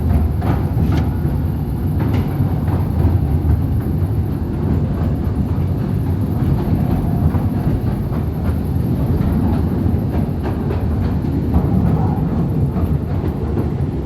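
A small underground mail train at The Postal Museum rumbles steadily along the rails, loud and close, with a dense low roar and occasional faint clicks throughout.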